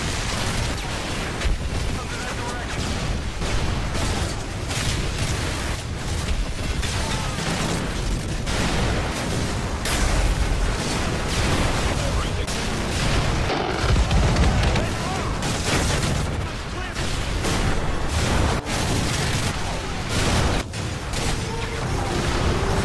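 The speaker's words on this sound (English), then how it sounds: "everything on all sides of you is constantly blowing up" Constant explosions and battle chaos in the VR video game Modern Warfare 3, a loud, dense barrage of booms and blasts that never lets up, with voices mixed in.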